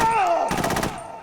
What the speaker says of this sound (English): Actually, let me shoot Ames.